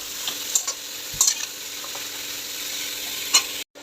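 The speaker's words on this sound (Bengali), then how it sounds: "এবারে আমি একটু নাড়াচাড়া করে নিচ্ছি" Mixed vegetables with spice pastes sizzling in a pan, stirred with a few scraping strokes over a steady close frying hiss, with no talk.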